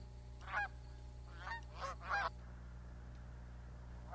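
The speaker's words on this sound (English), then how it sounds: "the resident Canada geese that no longer migrate to their northern breeding grounds to nest" Resident Canada geese honk in four short calls, faint and somewhat distant, over a low steady background hum at a Maryland wildlife refuge.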